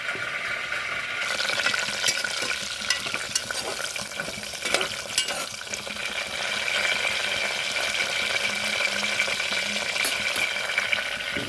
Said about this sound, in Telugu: తర్వాత ఉల్లిపాయ ముక్కలు వేసుకున్నామండి మరీ గోల్డెన్ బ్రౌన్ కలరు